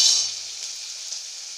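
Masala sizzles steadily in a hot pan for dhaba-style chilli paneer, a close, even hiss of frying with no talk.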